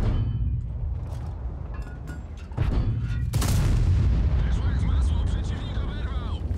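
Tank gun firing in the World of Tanks video game: deep booming shots, one sharp blast near the middle followed by a loud rumbling report, with game background noise throughout.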